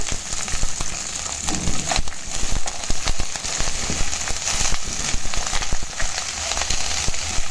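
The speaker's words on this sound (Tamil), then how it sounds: "2-3 வெந்தயம் நல்லா வெடிக்கவும், கடுகு நல்லா பொரியவும் நம்ம எடுத்து வச்சுருக்க வெங்காயம், கருவேப்பிலை, பச்சை மிளகாய் ஆட் பண்ணிக்கோங்க." Onion, curry leaves and green chili hit hot oil already popping with mustard and fenugreek seeds for sambar, making a loud continuous sizzle with sharp crackles and spatters.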